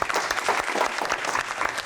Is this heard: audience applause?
yes